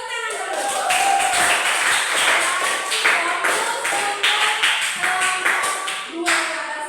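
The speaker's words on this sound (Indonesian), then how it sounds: "Tepuk tangan dulu." A classroom of students claps hands together in a brisk, uneven burst lasting several seconds, with individual sharp claps audible close by and voices mingling in between.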